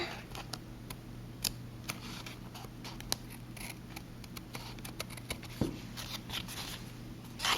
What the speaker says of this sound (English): And I'm just trimming off the ends here.